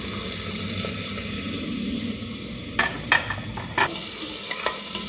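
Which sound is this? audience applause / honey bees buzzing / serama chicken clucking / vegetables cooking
vegetables cooking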